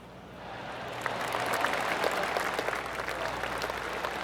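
Polite applause from a golf gallery crowd in a golf video game swells in and holds steady, a dense patter of many hands clapping at a moderate distance.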